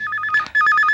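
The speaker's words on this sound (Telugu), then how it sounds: "ఇటువంటి ప్రదేశంలో ఫోన్ రింగ్ అవుతున్నట్టు అనిపిస్తుంది" A telephone rings in short repeated electronic trills, loud and close, with a brief break in the middle of the pattern.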